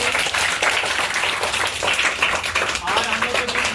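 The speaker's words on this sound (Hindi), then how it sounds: "एक बार जोरदार तालियां बजे रवि सर के लिए।" A crowd at a birthday gathering in Ranchi, Jharkhand, applauds for Ravi sir: dense, steady, loud clapping that fills the whole stretch, with voices mixed in.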